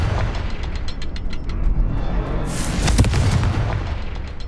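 Fire spell blast in the Hogwarts Legacy video game, a loud booming burst swelling midway over a dense mechanical game soundscape with clanking, ratcheting textures throughout.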